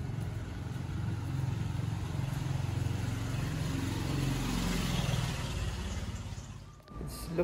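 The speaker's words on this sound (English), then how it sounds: "some of the motorcycles look like very fast driving" A motorcycle engine rumbles steadily close by in a Bangkok alley near Wat Paknam, its drone holding for several seconds before cutting off, followed by a brief clatter.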